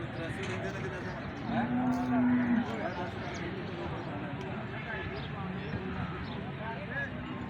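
A water buffalo lets out a low, drawn-out moo amid outdoor background noise at a livestock market, while people chat nearby.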